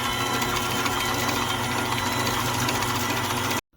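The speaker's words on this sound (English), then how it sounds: "Now beat in half cup of sugar." An electric mixer beats cream cheese with half a cup of sugar for a cheesecake, a loud, close, steady motor whir with a rattling drone that runs continuously before cutting off sharply.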